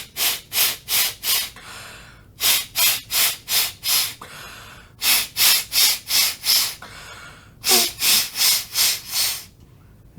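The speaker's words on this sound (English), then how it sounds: "So now I'm going to do just the out breath" Repeated forceful exhales through a nostril during a jal neti sinus rinse, sharp breathy bursts in four tight rhythmic groups of four or five, loud and close with brief pauses between sets.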